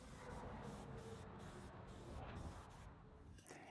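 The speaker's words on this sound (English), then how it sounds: "My finish of choice for this project is some good old trusty spray lacquer" Spray lacquer hisses steadily from an aerosol can onto a wooden hat rack in a small home workshop, a faint continuous spray with short pauses between bursts.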